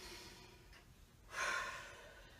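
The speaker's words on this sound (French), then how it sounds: "Et on expire." A single strong exhale during a cardio interval workout, a short close breathy rush of air that rises and fades after a quieter breath, with no talk.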